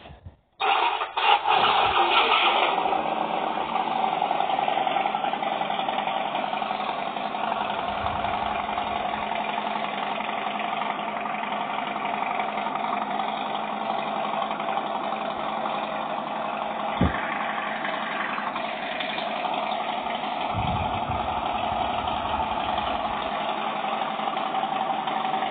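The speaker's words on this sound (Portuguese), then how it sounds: "A próxima moto que eu vou mostrar pra vocês é a Harley Davidson" A Harley-Davidson Softail Slim motorcycle engine cranks and catches near the start, then settles into a steady, loud idle that runs throughout, with a sharp click around the middle and no talking.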